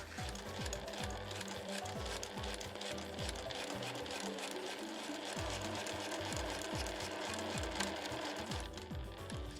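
A sewing machine stitches Liberty fabric to nylon at a 7 mm seam, its needle thumping in a fast, even rhythm close by with no talking.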